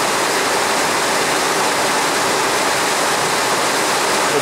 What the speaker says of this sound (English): There's the water coming out of the downspout.